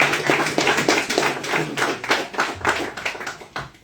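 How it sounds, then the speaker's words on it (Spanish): Applause from an audience honouring students at a special event, a sparse, uneven patter of individual claps from a small group nearby, rhythmic and distinct rather than a dense roar. "un aplauso para todos ellos."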